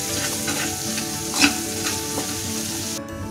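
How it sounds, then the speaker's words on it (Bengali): Spice paste with green chillies sizzles and fries in a pan, a dense, continuous crackle with a spoon stirring through it, close and steady throughout. "মশলাটা ভাজা ভাজা হয়ে এসেছে"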